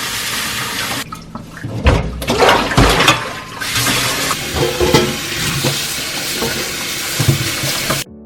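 Salted ponytail radishes being rinsed by hand in plenty of water for kimchi, with close sloshing, splashing and dripping that come in irregular bursts and continue steadily throughout.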